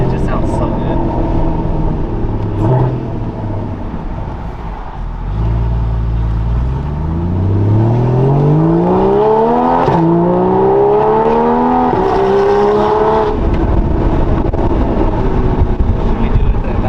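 A naturally aspirated Porsche 981 fitted with a Soul Performance competition exhaust revs up in rising, climbing sweeps after a low idle, loud and close, with talking alongside.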